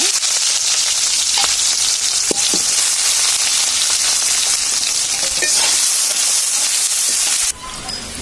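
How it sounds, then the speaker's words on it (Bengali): Onions frying in a pan for a curry, with a steady, loud, close sizzle and hiss running nearly throughout, scattered small pops and ticks, then a sudden drop in level near the end. "এখন আমরা পেঁয়াজগুলো ভেজে নিব।"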